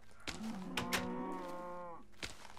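A cow in a farming video game gives one sustained, clear low moo of nearly two seconds, set between soft clicks and thumps with no voices.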